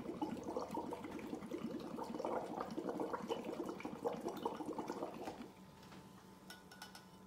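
Air blown through a tube into an alkaline water sample during a pH and antioxidant test, giving a steady close bubbling and gurgling that runs for about five seconds before stopping, leaving quieter background.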